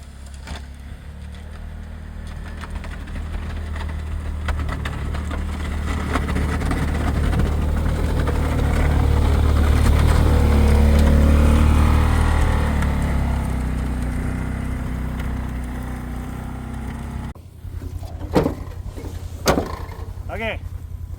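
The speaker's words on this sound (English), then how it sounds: "I love freaking plowing snow" Engine of a Can-Am Defender 6x6 plowing snow rumbles steadily, swelling louder mid-clip as it pushes, then dropping to idle with a few clunks near the end; a person speaks over it at times.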